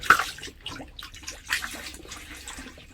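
Antifreeze poured down a sink drain inside a camper van during winterizing, heard as a soft, uneven trickle and gurgle of liquid, close and fairly quiet, with brief splashes and no talking.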